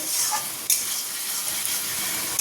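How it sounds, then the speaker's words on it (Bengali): Spices and potatoes sautéing in a pan, a steady close hiss with a single brief scrape or clatter partway through. "মশলা কষানো হচ্ছে"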